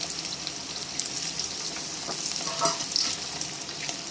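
Onions fry in a pan for a tomato and brinjal kadaisal, giving a continuous close sizzle with crackling pops and a few stirring scrapes, with no talking.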